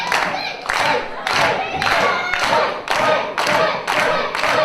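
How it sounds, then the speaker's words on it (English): An arena crowd at a wrestling title match between Takeshi Morishima and Dave Mastiff claps in unison, loud rhythmic bursts of massed handclaps repeating about once every half second with a slight crowd murmur beneath. "Crowd clapping along, trying to get energy back into their champion"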